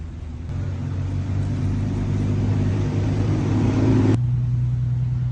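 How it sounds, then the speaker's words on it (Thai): A STIHL FS230 two-stroke brush cutter engine runs on a test, a close, steady buzzing drone that climbs slightly in pitch and loudness before shifting to a lower, smoother tone near the end. "ต่อไปเราก็จะเทสเครื่องตัดหญ้า FS 230เป็นเครื่องยนต์2จังหวะนะครับ"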